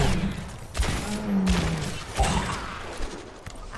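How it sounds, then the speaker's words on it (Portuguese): In an Overwatch match on the Rialto map, a bomb explodes with a heavy thump, followed by rumbling debris and gunfire-like cracks amid the din of battle. "Lá vai, bomba!"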